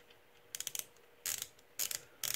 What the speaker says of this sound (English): make sure that you've actually got your ratchet the right way